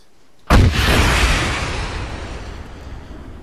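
A tank cannon in a video game fires once with a sudden, loud, deep blast, then a long rumbling tail that slowly fades over several seconds.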